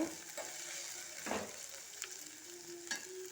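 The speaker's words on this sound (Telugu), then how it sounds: "వేసుకొని కలుపుకోవాలన్నమాట" Curry leaves stirring in a frying pan with okra and onions, a steady crackling sizzle with intermittent scraping strokes of a spoon across the pan.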